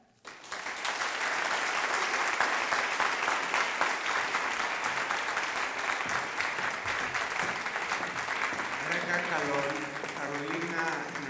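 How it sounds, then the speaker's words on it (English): Sustained audience applause fills a hall at a postgraduate hospitality graduation ceremony, steady and dense from start to finish, with a voice beginning to speak over it near the end. "another round of applause for the amazing Christmas"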